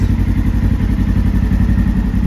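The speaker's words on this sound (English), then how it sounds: "racing tuned and clutched Razor Highlifter XP, running against the tuned and clutched 2017 General Deluxe" Tuned and clutched UTVs racing, a Polaris RZR Highlifter XP against a 2017 Polaris General Deluxe, give a loud, steady, close engine drone with rhythmic low thumping and clatter, with no voices.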